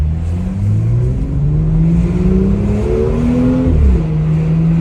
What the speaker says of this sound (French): Sans accélérer, il y a de la sonorité. 45 km/h, ça fait du bruit.